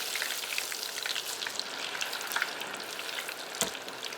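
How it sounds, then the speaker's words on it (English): Potato fries deep frying in canola oil in a pot, a steady close bubbling sizzle with crackling pops throughout and a brief sharper burst near the end, no talking. "We're going to put our fries in there nice and slowly."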